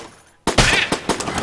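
Rapid bursts of gunfire in Enter the Gungeon, a sudden loud volley after a brief quiet lead-in, with several sharp shots close together and no voices.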